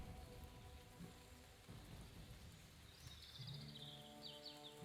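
Soft, steady rain falls as storm ambience behind a tabletop fantasy adventure session, a constant wash of patter with distant rumbling and a few faint bird calls, with no talk.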